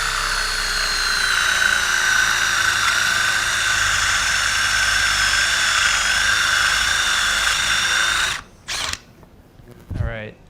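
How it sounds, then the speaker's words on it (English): A drill bores steadily through a workpiece centered between the beds of a lathe, a loud continuous whine for several seconds that cuts off abruptly, followed by short bursts of noise. "doing this with the drill is you slightly get off skewed a little bit."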